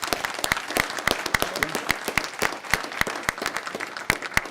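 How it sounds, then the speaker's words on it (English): An audience at an NYC panel event applauds steadily, a dense patter of many hands clapping close by with sharp individual claps standing out, no voices over it. "if we can give a round of applause for this great panel"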